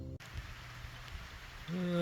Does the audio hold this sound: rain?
yes